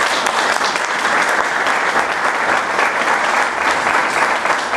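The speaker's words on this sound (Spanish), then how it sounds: "Agradecemos con fuertes palmas" Audience applause after a scientific lecture at a Chilean university, a dense steady clapping from a crowd filling the room at an even level throughout, with no talking over it.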